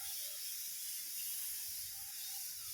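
Spray gun hissing steadily while painting car mag wheels, a continuous airy spray held at a constant level throughout, close and alone.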